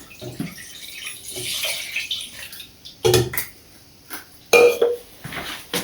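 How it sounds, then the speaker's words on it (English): Milk poured into a cooking pot, a soft liquid splash with brief louder bursts of clinking and pouring, close and without speech. "Now put the milk"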